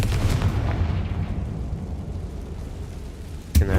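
A Confringo blasting spell explodes in Hogwarts Legacy, a heavy rumbling blast with a long low roar that decays over several seconds, followed by a sharp second burst near the end.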